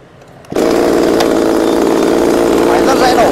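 An original Japanese chainsaw engine starts abruptly and keeps running with a loud, steady buzzing rasp close by, with no talk over it.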